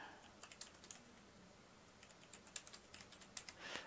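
Someone types on a computer keyboard, producing a quiet, irregular patter of soft key clicks in short bursts, with a brief flurry near the end.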